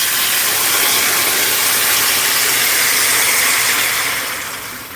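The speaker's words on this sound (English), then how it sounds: "Can you hear the sizzling?" Steady, loud sizzling hiss of pork frying in a hot pan, continuous and close, fading slightly at the end.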